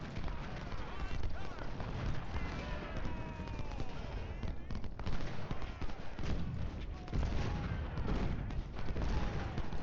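Ultimate General: Civil War artillery pounds away in a dense, continuous battle din of cannon booms and scattered musket crackle, steady and loud throughout, with someone talking over it.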